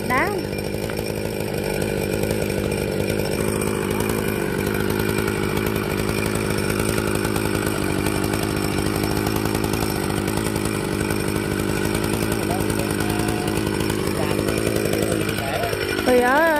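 A chainsaw runs continuously at high revs while cutting large flame trees outdoors, loud and close throughout with a steady droning whine, and a voice is faintly heard under it.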